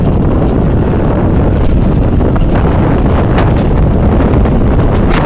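Strong wind buffets the microphone outdoors, a loud continuous low rumble and roar with no let-up and no voices.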